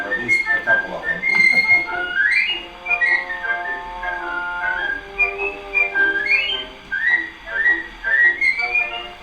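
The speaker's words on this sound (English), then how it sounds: "So it's whistling with a piccolo." Whistling from a band, backed by a piccolo, plays from an old gramophone record: bright warbling melodic phrases with trills and rising slides, loud and continuous over a thin band accompaniment.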